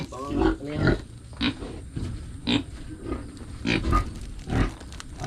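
Pigs grunt and snort repeatedly at close range, in uneven bursts of low, rough grunts, with a voice briefly heard among them.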